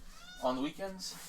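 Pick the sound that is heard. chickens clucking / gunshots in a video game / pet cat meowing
pet cat meowing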